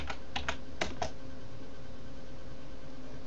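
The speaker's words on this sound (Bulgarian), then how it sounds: "Пишем си паролата." A password typed on a computer keyboard during an Ubuntu install, about five sharp, close keystrokes in the first second, then quiet steady background hiss.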